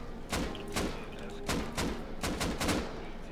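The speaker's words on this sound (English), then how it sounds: "Shooting." Rapid gunfire during a raid in the video game Rust, about seven or eight sharp, punchy shots fired in an uneven rhythm over steady background noise.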